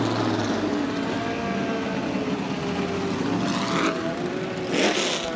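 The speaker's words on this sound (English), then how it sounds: "How incredibly noisy, the cars are leaving" Classic sports cars pull away from the assembly area at Silverstone during The Classic, a loud, steady wash of engine roar and revving filling the air, with passing surges swelling near the end.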